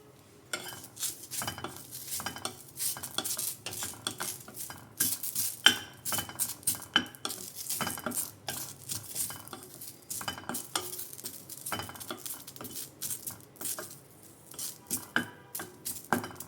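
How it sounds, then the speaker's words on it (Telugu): Karam podi ingredients dry roast without oil in a pan, the spatula stirring steadily with rustling, rattling scrapes and faint clinks, continuous and close with no voices. "డ్రైగానే వితౌట్ ఆయిల్తోనే ఫ్రై చేసుకోవాలి."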